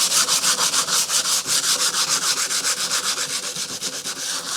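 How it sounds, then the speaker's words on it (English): Cheap 120-grit dollar-store sandpaper worked by hand along a wooden axe handle, giving close, steady back-and-forth rasping strokes in a quick, even rhythm with no voices. "This is a 120 grit sandpaper."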